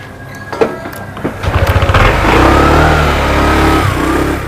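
A motorcycle engine revs up loudly nearby, with a quick run of throttle blips rising into a sustained drone as it pulls away, heard alone without talk.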